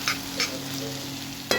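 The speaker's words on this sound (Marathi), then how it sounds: "भाजी परत छान अशी परतून घेऊया।" Capsicum (shimla mirchi) sabzi stir-fried in a pan, a low continuous sizzle broken by three quick scraping strokes of a spatula, no talking.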